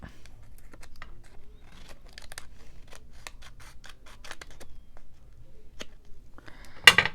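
Scissors snip through a thin beeswax sheet in a series of quiet, separate cuts spread over several seconds, ending with a sharper, louder crunch close by.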